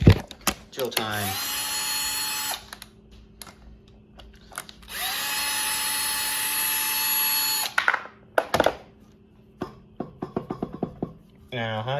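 Power drill whirring in two long bursts during work on a big riding mower's flywheel, loud and close, with brief clunks and a ratchet-like clicking between and after the runs.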